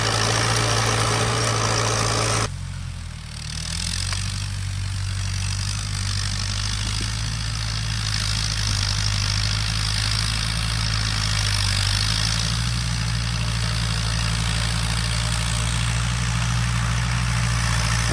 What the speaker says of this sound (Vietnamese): hôm nay mình cùng xem con máy cày Kubota 5950 nha các bạn